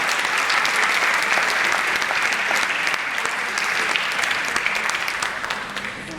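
Sustained applause from a large crowd, steady and loud throughout, tapering slightly toward the end.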